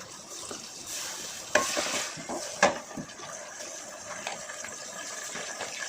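Ginger and garlic frying in a pan for prawn biryani, a steady hiss with a few sharp scrapes of a spoon stirring, close and moderately loud with no talking.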